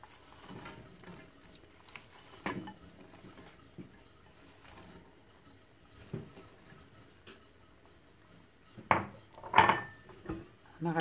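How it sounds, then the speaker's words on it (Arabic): Lentils and onion dropped into a pot of simmering pigeon stew, giving faint scattered clatters and soft pattering that end in a few louder knocks of utensil on pot. "دابا غادي نرمي ليه العدس ونرمي ليه البصله"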